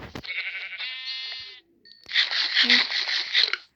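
Two bursts of sheep bleating in Minecraft, a harmonic drawn-out bleat then a denser, rougher one after a short pause, loud and close with no talk over them.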